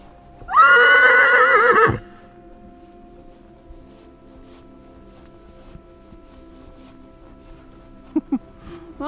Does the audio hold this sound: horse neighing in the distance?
yes